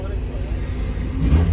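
A Doğan SLX car with a Varex aftermarket exhaust idles and rumbles loudly close by, the low exhaust note swelling toward the end as it begins to rev, with people talking over it.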